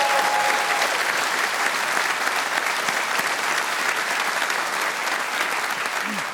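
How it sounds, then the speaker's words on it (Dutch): Loud, sustained applause from a large audience at a dance competition, dense and steady from start to finish. "Dus ik wil er ook echt een applaus voor hebben hoe zij het heeft gedaan."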